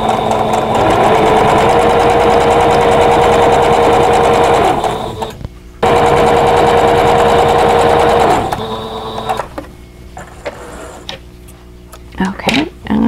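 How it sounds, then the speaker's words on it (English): A sewing machine stitches quilt block pieces, running loud and steady for several seconds, pausing briefly, then running again before stopping amid quieter handling sounds. "I'm going to sew from the center to the bottom right hand corner"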